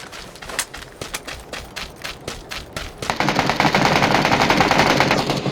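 Rapid bursts of automatic rifle fire from the video game PUBG, first separate short volleys, then a sustained continuous stream of shots, loud and close with no talk.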